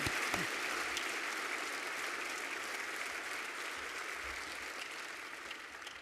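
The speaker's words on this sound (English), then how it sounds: "I'd like to get one more round of applause for our triple threat, the 2 keynotes and the national anthem." Sustained audience applause at a conference opening ceremony, honoring keynote speakers and the national anthem; a large crowd's dense, even clapping heard from a distance, steady throughout without voices.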